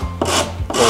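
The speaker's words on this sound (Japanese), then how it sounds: "柔らかくなるようにこういう形でサンドペーパーを使って仕上げていってあげてください" Sandpaper rubbed over the corner of a wooden cajon drum, rounding the edge: two close, loud abrasive strokes with a dry scratchy rasp and a short pause between them, no talk.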